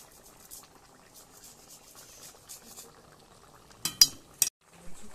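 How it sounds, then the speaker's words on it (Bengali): Curry gravy with gondhoraj lemon leaves bubbling in a pan, soft scattered pops over quiet background, then a few sharp clinks of utensils against the pan near the end. "ঝোলটা একটু ফুটে এসছে"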